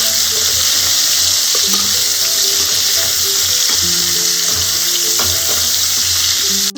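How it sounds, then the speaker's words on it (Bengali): Prawns sizzle steadily in hot oil for a homemade Bengali prawn malai curry, with occasional clinks and scrapes as they are turned in the pan. The frying is close and continuous, with no talking. "চিংড়ি মাছ বেশি ভাজার দরকার নেই, একটু উল্টে পাল্টে লাল লাল করে ভাজলেই হবে"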